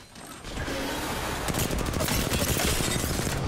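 Automatic gunfire crackles in Apex Legends on the Storm Point map, starting faintly and then erupting at about a second and a half into a loud, close, rapid stream of overlapping shots with mechanical clatter.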